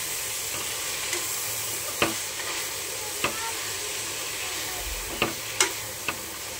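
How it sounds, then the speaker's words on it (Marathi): Fenugreek leaf vegetable being stirred in a frying pan, with a steady sizzle under a handful of sharp spoon scrapes and clicks against the pan, close and moderately loud with no talking. "अशा प्रकारे मी भाजी मिक्स करून घेतलेली आहे बघा"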